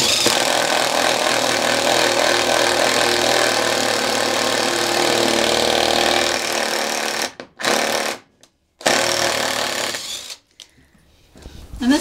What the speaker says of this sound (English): what we're doing is drilling some holes